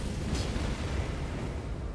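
An explosion in Elden Ring, a broad rolling roar with a brief bright burst near the start, fading into a steady low rumble that fills the whole stretch at moderate loudness.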